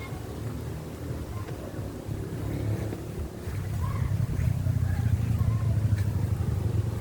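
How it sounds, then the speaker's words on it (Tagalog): Coconut husk grinding machine running in a small husk-processing workshop, a steady low mechanical drone that grows louder and rougher partway through, continuous with no pauses. "Iba pala po guys ang makina ng gilingan."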